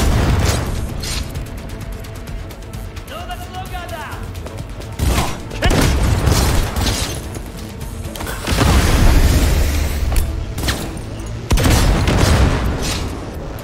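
Gunfire and explosions from the video game Cyberpunk 2077 on PS5, with repeated booms and bursts rising in louder waves during a firefight, mixed with game voices.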